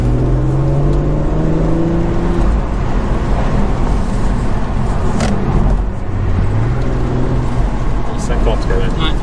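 A BMW 240i M Performance convertible engine, 340 hp, hums and revs steadily from inside the car, with a low continuous road roar and some faint rising tones.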